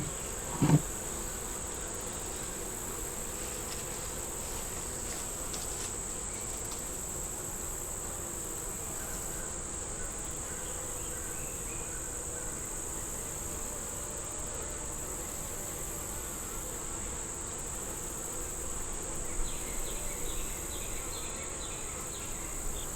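Honey bees at a hive being fed, a faint steady buzz with a constant high insect-like whine throughout and a brief knock near the start.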